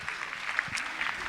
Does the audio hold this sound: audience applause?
yes